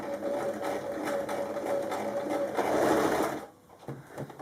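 A domestic sewing machine stitches fabric for a kimono wrap top, running in a steady continuous whir for about three and a half seconds before stopping abruptly, followed by a few soft handling clicks.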